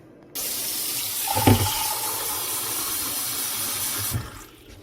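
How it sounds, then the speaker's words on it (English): Water poured from a tap into a cooking pan while making a chicken and sausage stir-fry, a steady close rushing stream running for about four seconds with a brief splashier burst near the start, then cutting off. "now I got to put some water in here"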